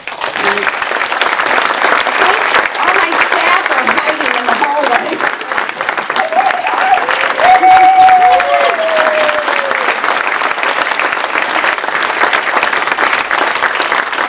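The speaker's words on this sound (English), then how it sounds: "Join me in a quick round of applause for those individuals." Loud, continuous audience applause at an agency event honouring staff, dense clapping holding steady throughout while someone speaks over it partway through.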